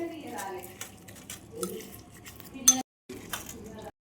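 Gongura chutney being mixed in a bowl, a spoon scraping and clinking against the dish with wet squelching stirs, close and intermittent, with a brief silent gap near the end.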